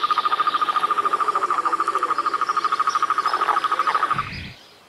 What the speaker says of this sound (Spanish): En unos charcos con mucha agua, un grupo de sapos comunes realizan sus cortejos.